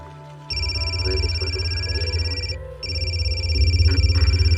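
An electronic phone rings in two long bursts with a short pause between them, over a low steady hum, in an anime scene.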